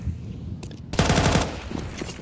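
Counter-Strike gunfire during an ESL Pro League match: a quiet stretch then a loud burst of rapid automatic shots with crisp cracks, continuing as dense close-range firing to the end.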